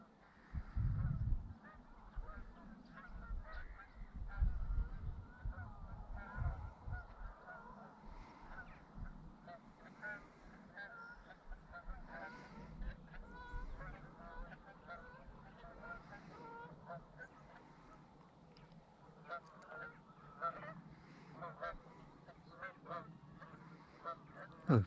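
A flock of Canada geese honks as it flies low over coastal marshes, repeated overlapping calls near and far, loudest early on and continuing steadily throughout.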